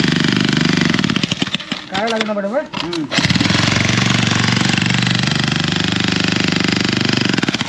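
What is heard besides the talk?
machine digging holes in ground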